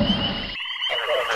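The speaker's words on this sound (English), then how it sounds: "Frog." A frog croaks close and clear, with a throaty rasping call broken by a short gap, heard alone without talk.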